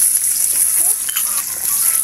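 Garlic and onion sautéing in a hot pan where meat was just fried give off a steady, close sizzle that runs unbroken and fairly loud throughout, with no voices over it.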